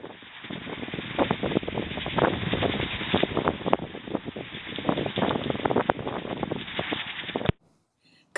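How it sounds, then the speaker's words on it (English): Strong gusting wind on a blustery day at a pony yard, buffeting the microphone in rough, uneven bursts throughout before cutting off abruptly. "I just threw this shot in to let you see that it was windy that day."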